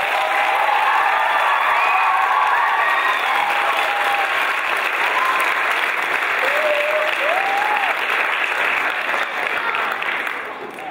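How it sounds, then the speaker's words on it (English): Sustained applause and cheering from an audience after a children's choir performance at a choir festival in Beijing, loud and dense throughout with whistles and shouts rising over the clapping before it begins to thin out at the end. "Let's give them another round of applause."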